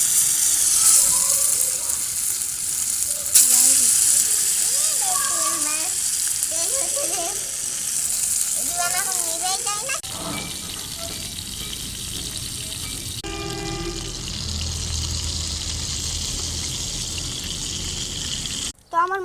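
Salted, spice-coated fish is slipped into hot oil, filling the scene with continuous loud sizzling and spattering while a voice talks over it at times, with a few clatters and a sharp knock at the close.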